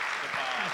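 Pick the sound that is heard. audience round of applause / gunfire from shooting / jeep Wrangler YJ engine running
audience round of applause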